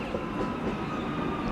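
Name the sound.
Victorian Railway S class train in a video game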